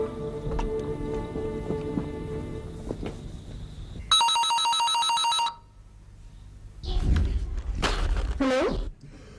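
A telephone bell rings in a loud, rapid trill for about a second and a half, following background sounds and followed by other clattering noise.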